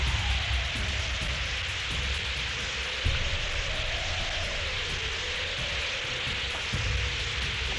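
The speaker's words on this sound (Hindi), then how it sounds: "अरे बाप रे, क्या बारिश हो रही है।" Heavy rain pours down in a dense, steady hiss of drops on surfaces, with a few louder thumps and a low rumble underneath.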